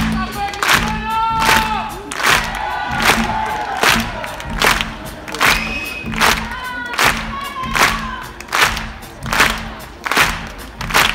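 Concert crowd at a live show in Leganés in July 2019, clapping along in a steady rhythmic beat, with bursts of cheering and shouts over loud music, the claps landing roughly every second.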